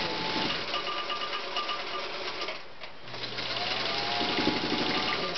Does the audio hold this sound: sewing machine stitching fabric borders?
yes